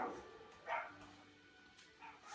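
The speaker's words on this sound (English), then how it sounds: "She's letting the dogs bark and explore their throat chakras." Dogs barking indoors, giving a few short, sharp barks spaced apart, fairly faint and distant against a quiet room.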